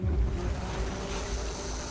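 Sea waves washing against an island shore, a steady low rumble of surf with wind buffeting the microphone, continuous and fairly close, no voices.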